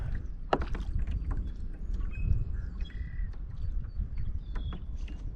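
A canoe or kayak paddles across Lake St Andrew in Manitoba's Interlake, with soft close paddle strokes and water swishes under occasional crow caws and other bird calls.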